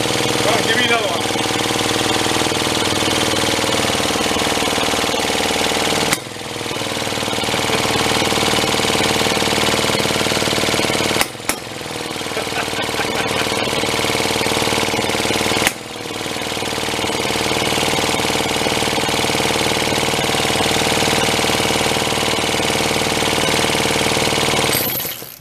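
A pre-war Elgin cycle engine pulled from long barn storage runs loud and continuously for about 25 seconds with an irregular, knocking hit-and-miss beat, briefly cutting out three times before catching again.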